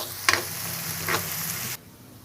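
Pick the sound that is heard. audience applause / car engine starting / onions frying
onions frying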